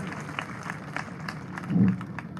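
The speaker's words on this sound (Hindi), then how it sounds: "एक बार हमारा मुखिया के लिए जोरदार ताली बजाए सुंदरेल वाले" A crowd at a 2023 Madhya Pradesh election rally claps in a steady, diffuse patter that swells briefly near the end. The applause stays moderately quiet and sounds spread across a large outdoor gathering.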